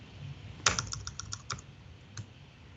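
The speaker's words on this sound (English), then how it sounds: "There's those typing skills again." A quick burst of computer keyboard typing, several fast key clicks in a row and then a single later tap, quiet against a low room hum during a dotnetConf 2016 coding session.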